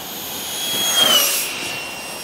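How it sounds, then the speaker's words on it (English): A model F-22 jet with a jet engine flies past, its broad, hissing whine with a thin high tone swelling toward a peak around the midpoint and then easing off as it passes, steady and fairly loud throughout with no talk. "This is a very nice flying plane."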